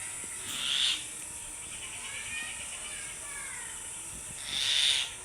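Two common mynas squabble, with harsh, raspy bursts of calling near the start and again at the end over a steady hiss. The calls are fairly faint and no one speaks.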